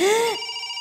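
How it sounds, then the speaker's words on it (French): A camera operator's mobile phone rings with a steady electronic tone, close and fairly loud, pitch dipping briefly before settling into a sustained ring. "Et ce téléphone qui sonne... Non, ça c'est le portable du caméraman."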